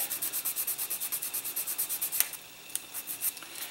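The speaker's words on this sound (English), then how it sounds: "so you can continue sanding" Steady rhythmic rasping of sandpaper rubbed back and forth by hand on a model kit, close and bright, with a brief pause and a few slower strokes near the end.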